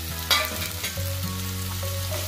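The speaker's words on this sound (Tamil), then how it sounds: "எல்லாம் நல்லா வதங்கிச்சு" Onion, garlic, tomato and curry leaves sauté in a hot pan for a goat brain fry, a steady close sizzle with brief stirring scrapes and no talking.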